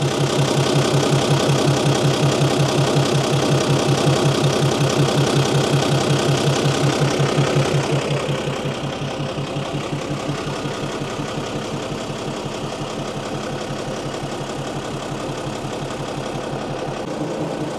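A Mercedes-Benz 911 4WD truck engine idles with a steady, rhythmic knocking chug. It runs loud at first, then settles a little quieter and smoother, and no one speaks.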